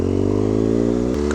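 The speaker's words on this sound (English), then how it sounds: "Oh, that exhaust. I have missed that exhaust" A brand-new, not-yet-run-in 2018 BMW R1200GS Rallye motorcycle burbles steadily at close range, a deep even exhaust throb with a brief blip in revs near the end, no voices.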